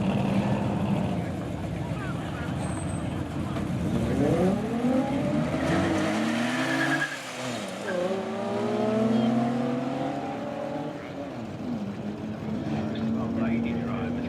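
Nissan 350Z launching down the right-hand lane at a street drag weekend, engine sweeping up through gears in rising harmonic whines, loud and steady for most of the run, with an announcer talking over it.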